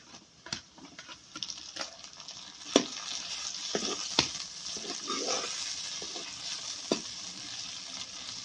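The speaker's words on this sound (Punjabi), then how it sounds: "ਇਹਨਾਂ ਨੂੰ ਹੁਣ ਭੁੰਨ ਦਿੰਦੇ ਆ ਚੰਗੀ ਤਰੀਕੇ ਨਾਲ ਹਰੀਆਂ ਮਿਰਚਾਂ ਨੂੰ" Onions and green chillies fry in a pan for a sabzi, giving a steady sizzle with occasional stirring scrapes and clacks, close and alone with no talk.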